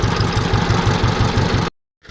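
A tractor engine running close by at a forest edge, a loud, even mechanical chugging with a regular pulse for over a second before it cuts off abruptly.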